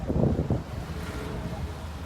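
Wind gusts and sea surf at Al-Gezira beach along the Bab El Bahr seaside corniche, a steady low rush that is strongest at the start and then settles into a softer, even roar.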